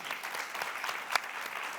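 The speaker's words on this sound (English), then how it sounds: "Bravo. Should be clapping." A conference audience claps steadily, a dense, even patter of many hands at moderate loudness with no voices over it, filling the moment from start to finish.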